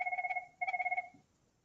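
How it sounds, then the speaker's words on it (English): A telephone rings indoors in two trilling bursts of rapid electronic pulses, moderately loud with a short pause between rings. "That's a phone call."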